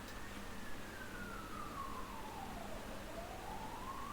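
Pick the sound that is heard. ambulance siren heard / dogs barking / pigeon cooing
ambulance siren heard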